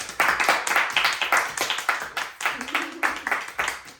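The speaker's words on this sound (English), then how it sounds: "Let's get another round of applause for Honey Pot, man." Clapping during a podcast taping as the guest is honoured, a small group of hands tapping in an uneven rhythm that stays close and steady for several seconds, with a voice briefly heard under the claps.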